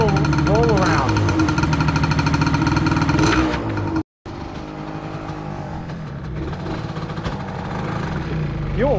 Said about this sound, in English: That cylinder only fires when it's choked.